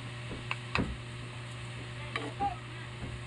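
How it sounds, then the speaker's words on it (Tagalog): Chop suey is stirred in a pan, with a few faint, sparse scrapes and clicks of a utensil over a low, steady background hum. "Ngayon, haluin na natin."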